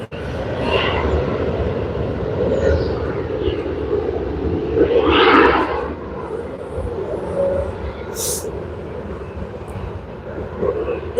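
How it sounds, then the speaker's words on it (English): A Delta Airlines Airbus A321-200 jet departs LAX, a steady distant roar of its engines with a slight swell midway, mixed with other airport background noise and no clear talking. "This is Delta Airlines 783 departing for Atlanta, an Airbus 321-200 series."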